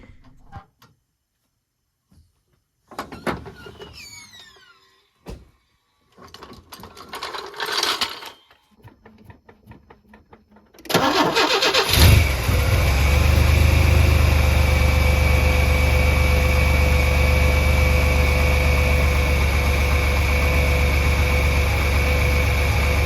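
A Chevy S10 pickup starts after hydraulic clutch master and slave cylinder replacement: scattered clicks and handling noises, then the engine catches and settles into a steady, loud close-up idle.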